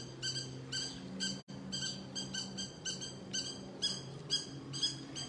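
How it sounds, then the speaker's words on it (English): Small birds give rapid, high-pitched, aggressive chirps in repeated bursts, loud and close. A low steady hum runs underneath. "Tremendous energy in their chirps."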